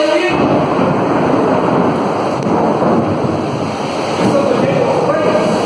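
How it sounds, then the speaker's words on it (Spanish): Heavy rain pours in a loud, dense, steady roar with a low rumble of thunder beneath it, in San Felipe, Distrito Federal. "está lloviendo."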